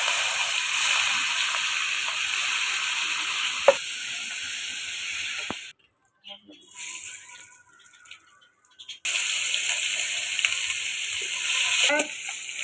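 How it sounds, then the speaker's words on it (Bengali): Small shrimp frying in a pan give a loud, steady sizzling hiss, which drops out into near silence for a few seconds midway and then returns just as strongly. "ভাজা হচ্ছে।"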